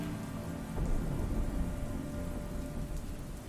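A rain ambience plays as background atmosphere for a tabletop role-playing game, a steady wash of falling rain with low thundery rumbles swelling briefly, heard alone without talk.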